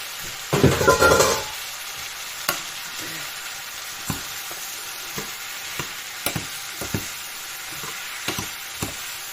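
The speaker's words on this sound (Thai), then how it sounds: "ผัดให้แห้งเนี่แหละ สีสันก็จะได้สวยงาม" Pork with chili and bell peppers stir-fried in a pan, a sharp burst of loud sizzling as something hits the hot oil, then quieter frying with repeated scrapes and clacks of the spatula at irregular intervals.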